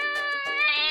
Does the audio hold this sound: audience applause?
no